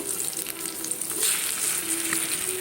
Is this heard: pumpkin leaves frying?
yes